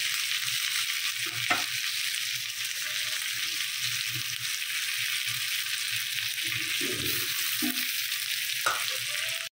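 Chicken tikka masala sizzling and frying in a pan on the stove, a steady loud hiss throughout with occasional stirring scrapes, no talking.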